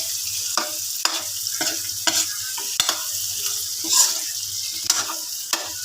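Vegetables sautéing in a pan, stirred with repeated scraping strokes at a steady rhythm over a soft sizzle, close and moderately loud.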